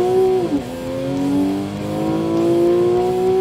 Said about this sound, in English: This engine revs freely and really piles the power on when you get it spinning fast.